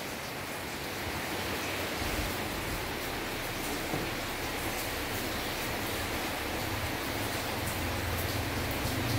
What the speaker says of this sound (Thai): ฝนมันตก